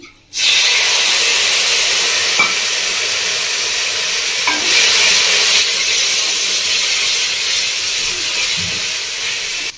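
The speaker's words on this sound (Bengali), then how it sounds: "এবার আমি দিয়ে দেবো ম্যারিনেট করে রাখা চিংড়ি মাছটা" Marinated prawns dropped into hot oil with black pepper powder and chopped garlic, a loud continuous sizzle and hiss that bursts in suddenly and holds steady, with faint stirring clinks.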